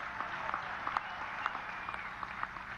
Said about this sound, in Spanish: Un aplauso a Tania